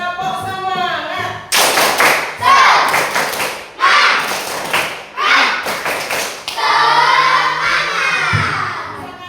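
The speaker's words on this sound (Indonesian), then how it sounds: "Tepuk semangat." A class of schoolchildren claps together in loud, rhythmic bursts with a pause between them. Children's voices shout and chant along between the claps.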